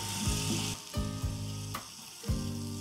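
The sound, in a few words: mixing ghevda beans frying in masala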